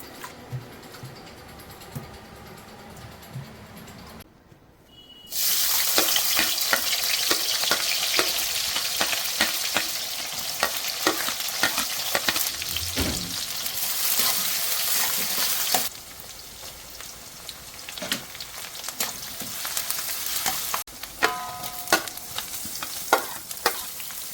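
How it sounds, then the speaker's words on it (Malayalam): Garlic, ginger, green chilli, onion and curry leaves hit hot oil in a pan with a sudden, loud, steady sizzle after a quieter start. A spoon stirs them now and then with scraping clicks, and the frying eases slightly later on. "വെളുത്തുള്ളി ഇഞ്ചിയും പച്ചമുളകും കൂടി മൂത്ത് കഴിഞ്ഞപ്പോൾ സവാളയും ചേർത്ത് കൊടുത്ത് കറിവേപ്പിലയും ചേർത്തിട്ടുണ്ട്."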